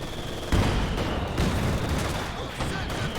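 In a real-time strategy game battle, a ZiS anti-tank gun fires; a heavy boom lands amid sharp, booming bursts of gunfire over a continuous roar of combat noise, with faint commentary underneath.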